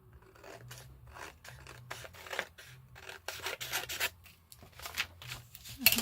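Scissors snipping and rasping through paper in short, uneven bursts while fussy-cutting shapes for a nautical craft notebook, close and fairly quiet, with brief pauses between cuts.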